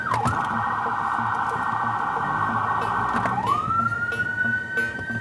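Emergency vehicle siren wailing loud and close while driving through congested Budapest traffic, holding a steady high tone before sweeping down and rising again, with engine and road noise beneath.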